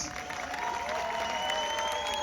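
Crowd applause and light cheering at a football championship trophy ceremony in Beykoz, steady moderate clapping with a few whistles over a distant, echoing public address.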